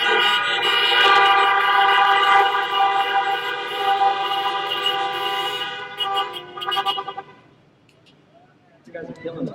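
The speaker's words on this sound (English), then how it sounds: "give the Ironstone Vineyards staff a round of applause and more honking" Outdoor middle school graduation drive-in at a vineyard, with many car horns honking together in long sustained blasts, loud and overlapping, then fading to near quiet before a few scattered honks return.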